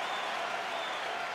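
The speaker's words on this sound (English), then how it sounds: "crowd getting excited as this fight gets underway" A steady roar of crowd cheering and applause fills the arena at the start of a UFC welterweight fight, loud and continuous without a break.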